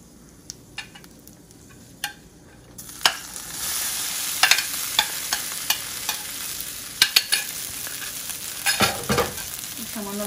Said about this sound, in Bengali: দুটো কাঁচা দারচিনি দিয়ে এবার চিড়াটাকে একটু ভেজে নিব।